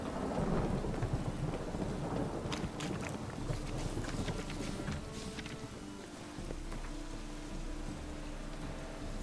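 Heavy rain pours steadily in a video game while deep thunder rumbles loudly through the opening seconds, fading into a continuous wash of rainfall.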